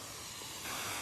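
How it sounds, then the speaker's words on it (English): A garden watering wand throws a broad spray of water over flowers, a continuous hiss that grows slightly louder partway through, with no talking. "it's got such a broad spray, as you can see, but it's perfect. Perfect for your flowers."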